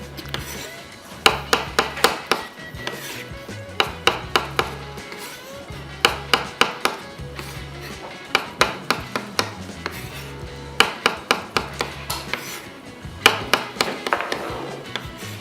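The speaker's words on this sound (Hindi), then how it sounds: "सो मशरूम सबसे पहले स्लाइस" Mushrooms sliced with a knife on a cutting board in a kitchen, giving a long run of quick, sharp, rhythmic chops in bursts. Steady music plays underneath.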